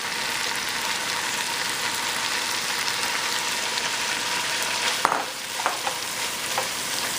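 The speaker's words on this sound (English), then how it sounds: "We're gonna go ahead and add our spinach in here." Spinach frying in a pan with ginger and garlic, a steady loud sizzle throughout, with a few clinks and stirring scrapes near the end.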